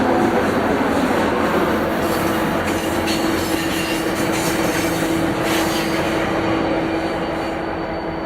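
A northbound freight train rolls into the Ogden–Layton area, its continuous loud rumble of wheels and cars on rail carrying a steady high tonal whine and faint squeals, with no voices.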